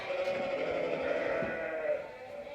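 Two ewes bleat on a farm, a close, steady, slightly nasal call sustained across the short stretch with no talk over it.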